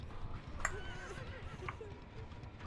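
A horse in a video game gives a short whinny, faint and a little distant, over a low background rumble, with a voice talking around it.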